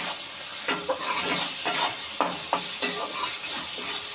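Spices with turmeric and salt fry in a pan, a steady sizzle broken by several scraping stirs of a spatula at irregular intervals, close and clear with no talking.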